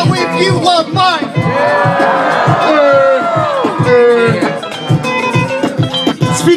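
A crowd at an outdoor freestyle rap gathering for a bench dedication shouts and cheers loudly, with overlapping whoops and yells sustained throughout, rising and falling in a continuous roar.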